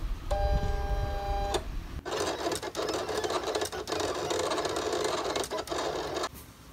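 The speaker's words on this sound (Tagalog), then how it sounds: "cut na natin siya dito sa Cameo Silhouette na machine." A Cameo Silhouette cutting machine works through a design, starting with a short motor tone and then giving a busy run of whirring movement and quick ticking clicks at close range.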